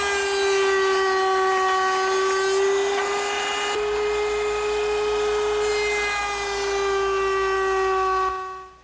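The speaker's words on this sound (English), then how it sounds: "Now I'll make that dovetail using my router table." A router table cuts a dovetail into a cherry wood leg for a candle stand, a loud close high-pitched whine with strong steady tones that shifts partway through the pass and cuts off near the end.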